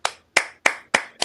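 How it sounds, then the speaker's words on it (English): Five sharp hand claps, close and distinct, evenly spaced at roughly a third of a second apart, with no other sound between them. "applause"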